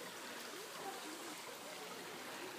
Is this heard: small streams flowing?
yes